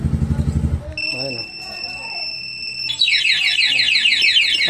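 A MIOGEAR motorcycle anti-theft alarm goes off after a short rumbling engine pulse, sounding steady electronic tones, then rapid warbling siren sweeps, loud and close.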